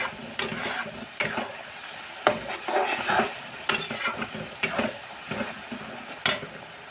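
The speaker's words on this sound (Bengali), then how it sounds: "তো রসুন ভাজা হতে হতে হলুদ গুঁড়ো দিয়ে দিচ্ছি" Garlic frying with turmeric powder in a pan for village-style prawn biryani, a constant hissing sizzle under repeated scraping strokes and spoon clinks against metal, near and fairly loud, no speech.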